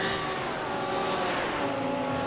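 GT4 race cars lapping the Nordschleife in a racing video game, a dense, continuous roar of several engines holding high revs with steady harmonic whine, loud and close throughout, no voices.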